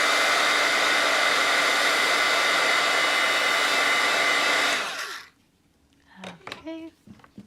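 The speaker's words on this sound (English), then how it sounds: "I guess I could hit it with my heat tool" A heat tool drying wet paint on a Valentine's mail art envelope blows a loud, steady, hissing roar up close for about five seconds, then cuts off, followed by a few faint handling knocks and brief talk.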